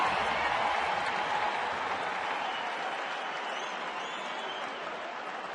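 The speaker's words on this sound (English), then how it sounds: "So the crowd abuzz already" Dense crowd noise fills a baseball stadium during a Red Sox at Rockies game, a steady broad roar of chatter and scattered clapping that holds at a fairly even level throughout.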